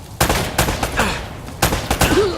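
Sharp gunshots in the video game Uncharted: Drake's Fortune Remastered, several loud close cracks spaced irregularly in quick succession, with brief game voices between them.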